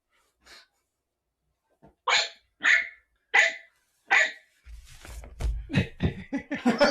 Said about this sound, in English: The dog barks incessantly, so I don't even hear it anymore.